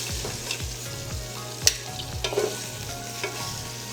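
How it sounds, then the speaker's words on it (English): Veal shanks browning and sizzling in a hot pot, with steady frying crackle and a few louder clanks and scrapes as they are turned, close and alone without talk. "we're gonna let them brown for about 4 minutes each side, flipping them once"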